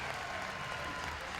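A crowd applauds and cheers continuously for a French climber at the women's bouldering world championships in Paris, a dense steady wash of clapping.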